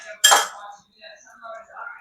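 A roti canai is flipped on a hot pan with one sharp metallic clatter, followed by softer scraping and clinks of utensil against the pan.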